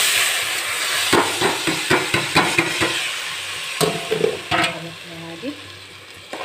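Rice and meat frying in hot oil in a pot, stirred with repeated sharp scraping strokes and a steady sizzle underneath, close and moderately loud, with no talking.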